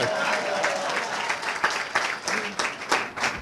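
Audience applause at a city State of the City address, a dense wash of clapping with a few sharper individual claps standing out near the end.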